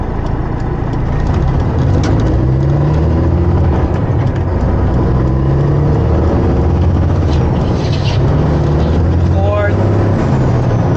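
The engine of a semi truck with an 18-speed manual transmission pulls in second gear, a loud, continuous low rumble that rises steadily throughout, with faint voice-like sounds under it.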